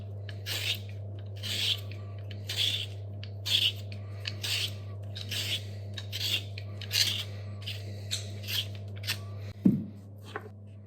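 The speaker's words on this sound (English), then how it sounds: "So I'm going to peel these potatoes." Potatoes, a mix of large and small ones, peeled by hand for lamb kleftiko, giving a steady rhythm of short rasping scrapes, about one or two per second, over a constant low background hum.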